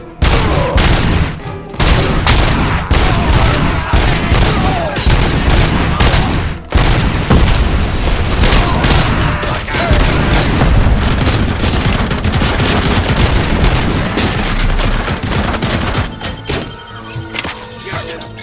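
Sustained, dense gunfire fills a firefight in the game Robocop: Rogue City, loud and close, with rapid volleys and heavy thuds running almost without a break, while voices shout over the shooting.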